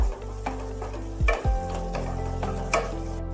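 Eggplant fries in a pan over a medium gas flame, giving a steady close sizzle broken by a few sharp clicks and scraping stirs of a utensil.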